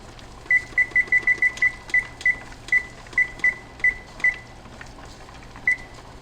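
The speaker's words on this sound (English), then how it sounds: "I'm gonna go ahead and set my timer for an hour and 15 minutes." A kitchen timer being set during pressure canning of ground beef gives a run of sharp electronic beeps, quick at first and then more spaced out, clear and close against a steady low hum.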